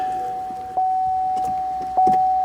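Two soft mechanical clicks from the ignition lock solenoid of a 2014 Chevrolet Camaro with a key that won't come out, over a second apart, ring out against a steady electrical whine, close and fairly quiet.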